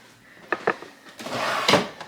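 An office drawer among shipping supplies slides and bumps, with a couple of short knocks followed by a longer rolling scrape ending in a firm thud, close and moderately loud.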